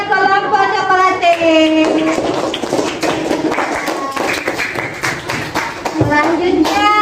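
A classroom of students claps for a student group after a cooking presentation, a burst of quick, uneven hand claps mixed with children's excited shouting voices at the start and again near the end.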